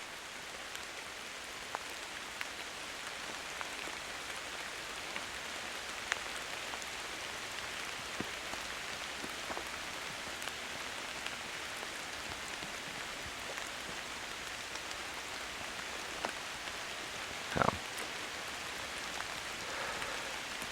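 Steady rain falls through the New England woods near a wolf den, a dense, even hiss of drops on leaves and ground with occasional louder close drips, continuing throughout with no voices.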